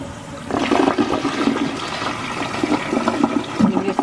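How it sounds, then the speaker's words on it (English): A toilet flushes loudly and close, its water rushing and swirling steadily for several seconds after an abrupt start. "So we're gonna flush this a couple of times."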